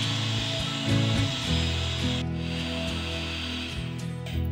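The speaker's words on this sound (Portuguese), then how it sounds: "aqui eu vou ligar a batedeira na rotação 1, bem baixinha mesmo, só para misturar" Electric stand mixer running on its lowest speed through cake batter, a close, droning motor hum whose tone wavers and shifts as the beaters turn.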